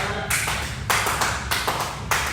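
Steady gospel-style hand claps ring out at an even pace, five sharp, bright slaps spaced about half a second apart, close and alone.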